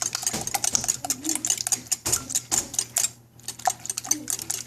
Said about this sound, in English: We'll beat these eggs by hand.